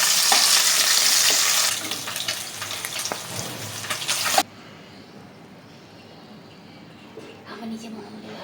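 Rohu fish pieces frying in hot oil in a wok give a dense, close sizzle for about four seconds, then the sound drops abruptly to a much quieter, softer hiss.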